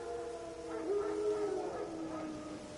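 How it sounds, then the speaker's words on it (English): Wild dogs howl in The Witcher 3, a faint, drawn-out wavering howl with a few overlapping tones rising and falling over a steady ambient game backdrop, no talking. "Wild dogs. Yes. More dangerous than wolves."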